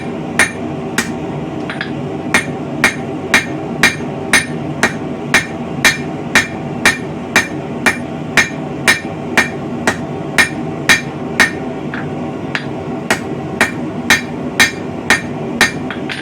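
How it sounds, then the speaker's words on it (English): The crossbeam side of a hammer strikes hot steel on an anvil, flattening a medieval bodkin arrowhead, in a steady, even rhythm, over twenty sharp ringing blows in a row, loud and close. "use our crossbeam side of our hammer here and start to stretch this out widthwise"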